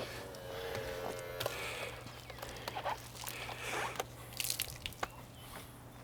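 A soapy sponge charged with car wash suds glides over car paint with soft, close wet squishing and dripping, faint and irregular over a low steady hum.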